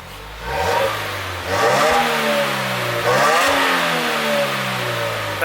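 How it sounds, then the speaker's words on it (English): A 2017 Subaru WRX engine revs up in several rising bursts, its exhaust growling loud and close, easing off between pulls with no talking. "That's Subaru exhaust for you guys."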